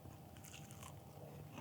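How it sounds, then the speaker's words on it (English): Someone bites into a crunchy air-fried chicken wing close to the mic, giving a brief, faint cluster of crisp crackles and crunches. "I'm gonna bite into it. You guys are gonna hear it."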